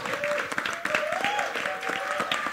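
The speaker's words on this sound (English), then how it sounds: "But I think we must also cheer for Pooja, who's the DOP, who joined them" Applause with whoops and cheers rises from the audience at a film trailer launch event, dense clapping throughout with high voices shouting over it, fairly close and lively.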